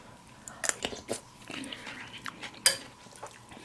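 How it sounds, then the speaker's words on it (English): Someone close by bites and chews crunchy chicken pozole with cabbage and onion, giving soft irregular crunches with a few sharper snaps. "A little crunchiness from the cabbage, from the onion"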